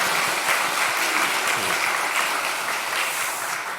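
Steady applause from a church congregation at a Sunday afternoon service, dense and fairly loud, holding even throughout and easing slightly at the end.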